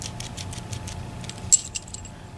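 Keys jangle as they are handled while an EVVA ICS lock is picked. Light metallic clinks patter near the mic, and a couple of sharper chinks stand out midway, with no speech.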